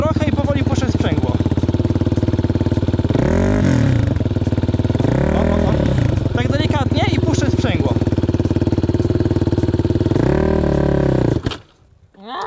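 A quad bike ridden by a beginner learning to ease out the clutch and add throttle, its engine loud and close, rising in several revving sweeps over a steady rumble before cutting out abruptly near the end.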